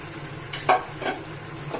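Boiled eggs, lightly slit, are fried in hot oil with a quiet, steady sizzle. Two or three short stirring scrapes sound close by, with no talking.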